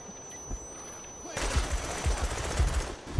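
Gunfire in the multiplayer shooter Call of Duty: Black Ops breaks out partway through, a rapid run of loud shots and bursts following a quieter stretch of game ambience.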